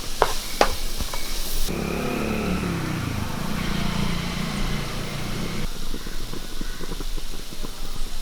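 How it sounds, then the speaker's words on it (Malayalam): Prawn fried rice sizzles steadily in a hot pan as it is stirred, with scraping of the spatula, a few sharp metallic taps early on, and continuous frying hiss throughout. "ഇതൊന്ന് ഇളക്കി കൊടുക്കാം."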